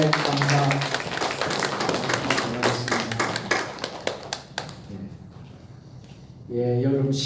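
A church congregation applauds at a Korean Sunday praise service after a Bible study, a dense steady wash of clapping that thins and fades, with talk over it before a voice resumes alone.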